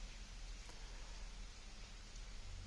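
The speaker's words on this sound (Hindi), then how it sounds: "रायपुर, बिलासपुर, जगदलपुर, कोंडागांव, कांकेर में झमाझम बारिश हुई।" Heavy monsoon rain falling across Chhattisgarh, a steady, faint wash of hiss with no distinct drops standing out, continuing evenly throughout.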